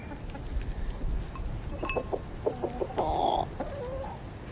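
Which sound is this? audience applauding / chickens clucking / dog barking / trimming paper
chickens clucking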